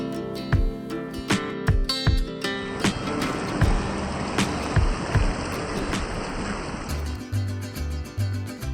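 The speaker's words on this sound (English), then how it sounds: "I did not expect to see such an expansive beach with sparkling white frothy waves" Broadband surf washes onto a wide beach in North Goa with white frothy waves, a steady rushing roar broken by several low thumps and tonal bursts, loud and close throughout with no talk.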